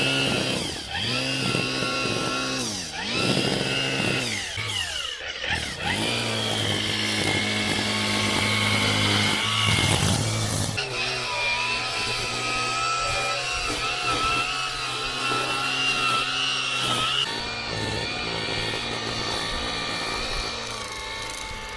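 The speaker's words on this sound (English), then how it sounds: "So the string trimmer attachment seems to work really well." A Milwaukee M18 cordless string trimmer roars at full throttle, a loud, continuous high-pitched electric whine with brief surges and dips in speed, close by and running without pause.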